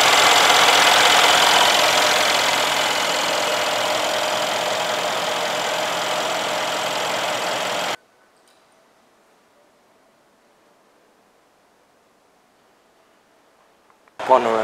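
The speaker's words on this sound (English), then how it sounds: "What a beautiful engine, a very special engine." Brabus-tuned Mercedes S-Class engine running at idle under the open bonnet, a steady broad rumble for about eight seconds that cuts off abruptly into near silence, with a brief sound at the very end.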